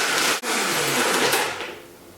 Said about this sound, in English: I'm going to blend this mixture up until it's completely smooth